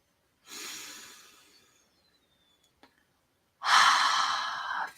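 Deep breathing during a guided breathwork exercise: one long, airy exhale, a pause with a faint click, then a second, louder, forceful breath close to the microphone.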